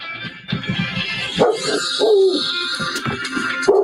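A dog barks and whimpers close by, with rapid yips and whining cries rising and falling in quick succession.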